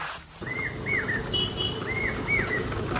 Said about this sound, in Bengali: এরকম পাখির আওয়াজ।